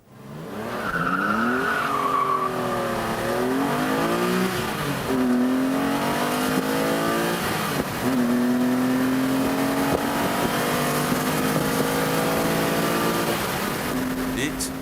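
TVR sports car with a 3.6-litre straight-six racing a Porsche Boxster S in an acceleration test, engines roaring continuously and climbing through repeated gear changes, loud and steady throughout.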